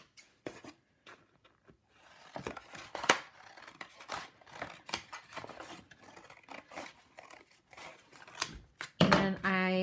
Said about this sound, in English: I'm going to cut my first strip.